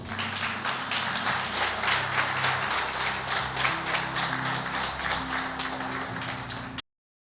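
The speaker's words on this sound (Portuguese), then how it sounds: "Vamos aplaudir bem forte o Senhor." A standing church congregation applauds loudly and continuously during an evening service, dense clapping sustained for several seconds before cutting off abruptly.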